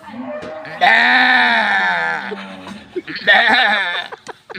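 A man imitates a goat's bleat, giving a long wavering nasal call followed by a shorter second bleat, loud and close.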